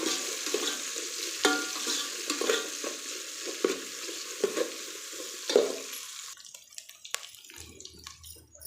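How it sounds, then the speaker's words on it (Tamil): Onions sizzle and crackle steadily in a hot pan while a spoon scrapes and stirs at intervals, cooking for pumpkin rice; the frying quiets toward the end. "பெரிய வெங்காயம் 1 கட் பண்ணியிருக்கோங்க, அதையும் இதிலே சேர்த்து நல்லா வதக்கிக்கலாம்"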